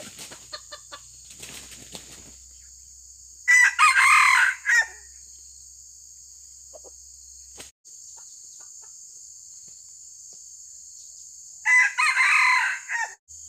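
A red junglefowl rooster crows twice, loud and close, with a long quiet gap between calls and faint background noise.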